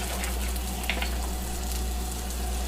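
Half a large onion fries in a little butter in a pan, giving a steady, close sizzle with crackling pops throughout and a low background hum.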